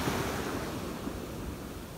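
Ocean waves on a sunny beach, recorded on an iPhone: a continuous broad roar of surf with some wind rumble against the microphone, steady and fairly close.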